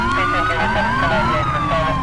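Several police car sirens from GTA IV with the LCPDFR police mod wail loudly and continuously, their overlapping rising and falling tones layered over one another.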